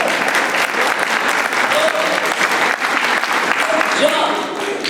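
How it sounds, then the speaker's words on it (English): Audience applause at a live comedy show, a dense, steady wash of clapping that stays loud and continuous throughout, with faint cheering mixed in. "Round of applause, everybody."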